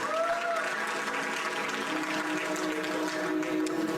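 Audience applause at LINKFLUENCE 2023, a career and LinkedIn event, as a speaker is introduced: steady, dense clapping filling the hall for the full stretch at moderate level.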